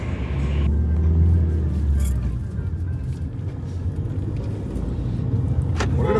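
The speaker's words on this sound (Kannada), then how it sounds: "ಬನ್ನಿ ಇನ್ನು ಕಾರಿಗೆ ಹತ್ತಿ ಹೊರಡುವ." A car rumbles loudly close by and pulls away, its engine noise steady and full before easing slightly, with a sharp click near the end.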